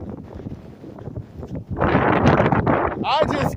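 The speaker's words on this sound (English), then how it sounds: "I just got turned around by that wind." Strong winds of the Christmas 2022 blizzard buffet the microphone in gusty, loud bursts on a street. They grow stronger in the second half, and a person talks faintly beneath them.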